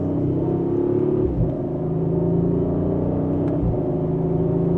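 A 2025 Audi RS5 Sportback Competition accelerates mildly in second gear under manual paddle control, a steady close engine rumble with rising drone and brief dips around quick shifts.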